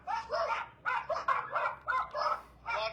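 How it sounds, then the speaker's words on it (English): Several rescue dogs bark in quick overlapping bursts, a noisy chorus of yips and woofs repeating over about three seconds, fairly close with no talking. "Lots of rescue dogs."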